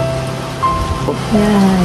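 Rain falls steadily as a soft, even patter, heard briefly under faint voices and tonal sounds.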